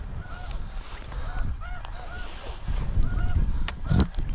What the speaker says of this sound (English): Juvie. Juvie snow goose.